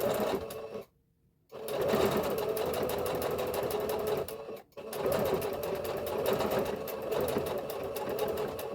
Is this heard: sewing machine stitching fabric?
yes